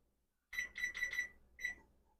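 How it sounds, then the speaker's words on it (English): A kitchen timer beeps as it is set while English muffins cook: four quick, bright electronic beeps in a row, a short pause, then one more, all close and clear in a quiet kitchen. "I'm going to set the timer"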